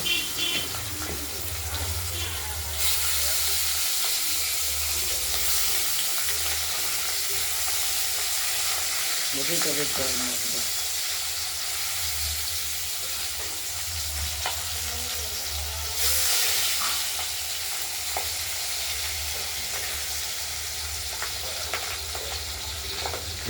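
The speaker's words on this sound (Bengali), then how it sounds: "তেলটা আমাদের গরম হয়ে গেছে, মাছগুলো হালকা করে একটু ভেজে নেব।" Pabda fish fry lightly in hot oil with a continuous close sizzle and crackle, joined by occasional scraping and stirring clatter and brief louder bursts of spitting oil.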